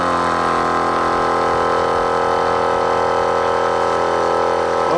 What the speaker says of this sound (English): I'm going to have to start the vehicle because it will run the battery down.